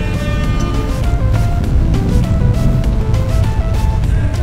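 A 2009 BMW 528i xDrive E60 sedan on the move, heard from inside as a steady, loud, low-pitched drone of engine and road noise that stays even throughout with no one talking.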